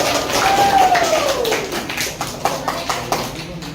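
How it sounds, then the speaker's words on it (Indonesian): Classroom applause for a presenting student group, a loose run of hand claps and taps beneath overlapping voices, with a brief whistle-like tone early on. "Tepuk tangan dong untuk kelompok Septian."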